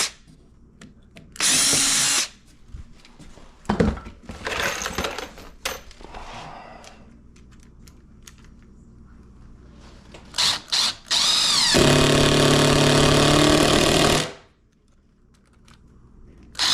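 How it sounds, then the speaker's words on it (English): A power drill drives screws into wood framing in short whirring bursts, one longer sustained run near the end, with quiet handling knocks between. "then I'll just put screws in that to hold it in"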